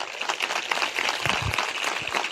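Congregation at a church service clapping loudly together, a dense, sustained wash of applause filling the room with no pause.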